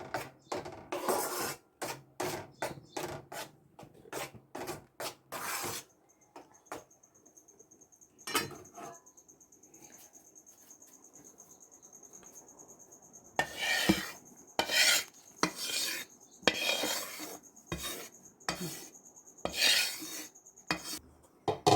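Roasted besan gets scraped from a pan into semolina with repeated rasping scrapes of a utensil against metal, close and crisp, in bursts separated by quieter pauses and a faint steady whine in the background.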